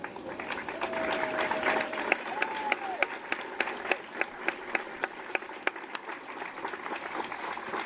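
Applause from an audience at a graduation ceremony honors military service members. It starts as a scattered crowd clapping with a voice briefly over it, then thins to a few sharp, separate claps.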